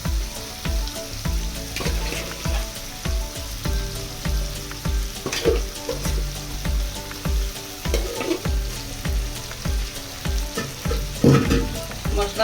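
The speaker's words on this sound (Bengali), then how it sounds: "মশলার সঙ্গে শাকটা ভালোভাবে মিশিয়ে নিব।" Taro greens with spices, garlic and shrimp get stirred in a frying pan, a regular run of scraping strokes over a soft continuous sizzle, close and moderately loud with no talking.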